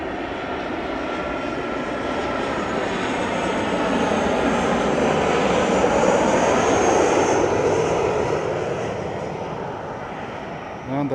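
A TUI Boeing 737 jet arriving from Luton lands at Lanzarote Airport, its engine roar swelling steadily then easing off, heard from a distance with a steady broad rumble and no talk.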